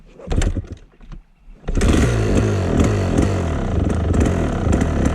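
A two-stroke engine running rich, sputtering briefly before catching and then revving steadily and loudly at partial throttle with a rough, buzzing drone close by.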